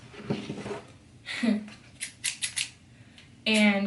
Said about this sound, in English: now I'm gonna go ahead and take my big scissors